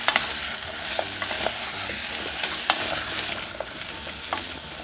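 New potatoes and vegetables stir-fry in oil for a nursery-school sweet simmered potato dish, a steady close sizzle broken by scraping stirs of the spatula at irregular intervals, with no voices.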